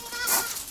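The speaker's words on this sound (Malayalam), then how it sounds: "7 ആടുകുട്ടികൾ." Goat kids bleating on a farm where young goats and milking goats are kept, a brief nearby cry at moderate loudness with no talk over it.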